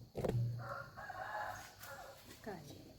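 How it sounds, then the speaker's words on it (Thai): A rooster crows in the early morning: a faint, somewhat distant drawn-out crow followed by a softer second call, with quiet voices nearby. "ไก่"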